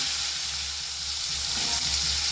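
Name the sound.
salted mixed vegetables frying in pan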